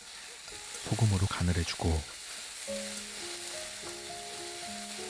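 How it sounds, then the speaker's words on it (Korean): Onions stir-fry in a little cooking oil in a pan for japchae, a soft, steady sizzle under a brief stretch of talk, followed by sustained tones. "팬에 식용유를 조금만 두르고 양파를 볶아냅니다"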